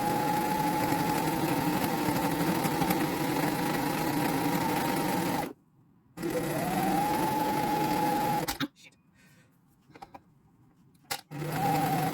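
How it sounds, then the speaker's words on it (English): A sewing machine stitches down a fabric cafetiere cover to make a neat finish, running in steady loud whirring bursts with two short pauses and a few brief stops near the end. "what we're going to do is sew down here to make a neat finish"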